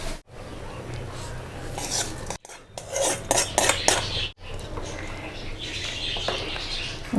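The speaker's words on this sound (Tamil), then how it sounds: "இதை வந்து நம்ம சாம்பாரில் ஊற்றிக்கலாம்." Hot tempering is poured into a pot of sambar amid kitchen clatter: metal pans and a ladle clink and scrape in bursts, with a sizzle rising and a short stir before the sounds settle, close and moderately loud.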